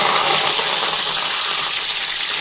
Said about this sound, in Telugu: ఇప్పుడు దీంట్లో పోపు వేసుకుందాం. ఆవాలు, కరివేపాకు,